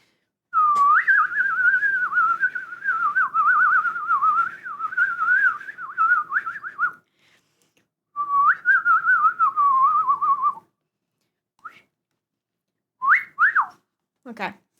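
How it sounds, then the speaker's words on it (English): A person whistles a wavering melody loudly and close by, with a long continuous run, a pause, another phrase, then a few short bursts near the end. "that was enough whistling"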